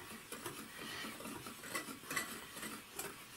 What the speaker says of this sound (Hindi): अब सबसे पहले हम इसको, इनको आपस में मिक्स करेंगे